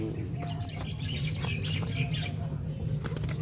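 A young bird that cannot fly yet flutters about, making quick high chirps and brief wing flaps up close over a low background hum.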